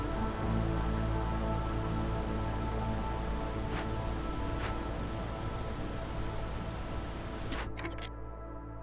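Drizzle rain in the video game Against the Storm, a steady soft patter under layered ambient hum, continuous throughout with a few brief bright chimes near the end.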